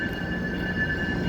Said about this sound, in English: I'm going to move a little bit so that the train noise dwindles.